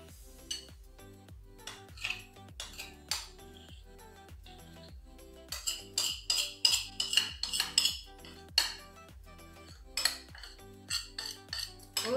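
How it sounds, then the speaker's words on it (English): Chocolate mixture being stirred into a flour and egg batter: steady, rhythmic clinks and scrapes of a utensil against a bowl, close and repeated, with a busier stretch of clattering in the middle. "we're going to take the chocolate mixture and put it into the flour and egg mixture."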